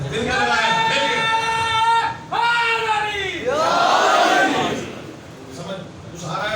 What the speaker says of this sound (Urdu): آپ بھی نعرے لگا سکتے ہیں